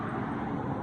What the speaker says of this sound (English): I'm sorry about the traffic sound